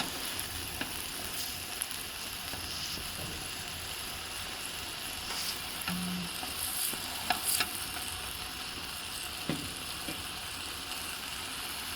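Roasting mushrooms sizzle softly and continuously after being flipped and coated with sauce, a quiet even crackle broken by a few faint clicks and light taps, with no talk.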